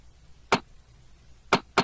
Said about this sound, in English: Let's pitch down the snare. That beat sounds like this.